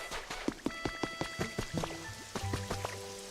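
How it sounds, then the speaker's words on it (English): Rain falls in the game Pokopia as soft, scattered drips and droplet plinks, patter tapping irregularly over gentle chiming tones, fairly quiet and close with no talking. "I hope they like the rain"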